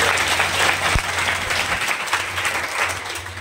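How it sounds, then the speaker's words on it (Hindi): An audience bursts into loud, dense applause to welcome a poet at a birthday-anniversary program honoring a Mewar social worker, close and continuous with no voices over it. "एक बार जोरदार तालियों से स्वागत"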